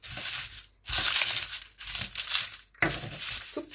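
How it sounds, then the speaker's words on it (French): Plantain leaves are chopped with a knife, giving four loud, close bursts of crunchy crushing and crinkling separated by short pauses. "je vais venir la hacher au couteau également"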